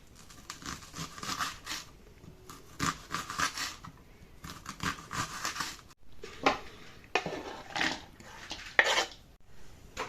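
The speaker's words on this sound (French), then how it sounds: "Maintenant on va hacher nos oignons menu." Knife chopping onions finely on a board while cooking Polish meat pierogi: bursts of quick, irregular chopping strokes and clatter with pauses between runs, close and fairly loud, with no talk.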